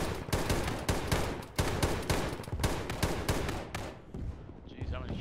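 Gunshots in the military shooter Arma ring out again and again, heavy rapid reports close and loud, with a short lull before the final shots.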